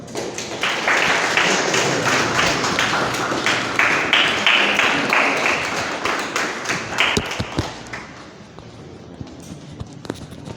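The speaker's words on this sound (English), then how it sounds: "So let's give her a clap as she comes." Audience clapping at a university student council aspirants' debate as a speaker walks to the stage, a dense run of hand claps that carries on for several seconds and then thins out and tapers away near the end.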